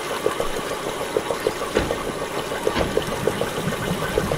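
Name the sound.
water pump running in Myst video game Channelwood Age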